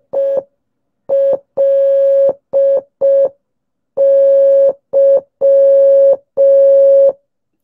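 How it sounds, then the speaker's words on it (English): Morse code tones spelling the word FLY: a clean, steady electronic beep sounds alone in a clear pattern of short and long pulses separated by brief silences. "So that is how Morse code works."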